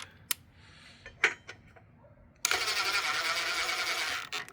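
Impact wrench driving saddle bag screws on a 2025 Indian Bobber Scout motorcycle: a few sharp clicks, then a loud, steady two-second burst of buzzing rattle close by that cuts off abruptly.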